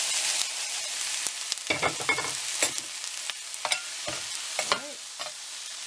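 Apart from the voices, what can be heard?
onions and peppers sizzling and being stirred in hot frying pan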